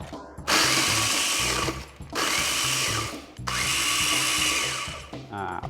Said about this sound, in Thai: วันนี้ผมใช้เป็นคุกกี้รสช็อกโกแลตครับ ก็ใส่ลงไปในเครื่องบดสับครับ